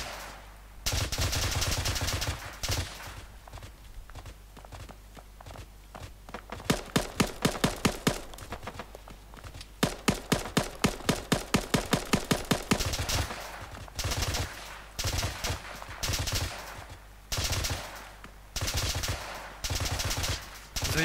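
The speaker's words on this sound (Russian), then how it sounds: "Как на 15 раз стреляет с холма." Arma 3 gunfire cracks from a hill at night, with repeated rapid automatic bursts and single shots spread across the whole stretch, fairly loud and rhythmic, separated by short pauses.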